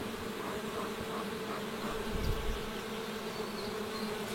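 Honeybees buzzing around hives in Ariège, a steady dense drone with a brief swell partway through, close and continuous with no voices.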